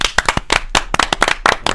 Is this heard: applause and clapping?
yes